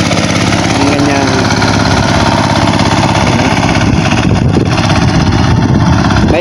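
A farm tractor engine drones loudly and steadily throughout, a constant rumbling roar that fills the whole clip with no pauses.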